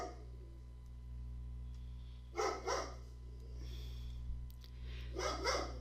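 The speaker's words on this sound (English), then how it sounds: "Sorry about the dog." A dog barks at a distance indoors, two short bursts of a couple of barks each, separated by a quiet pause over a low steady hum.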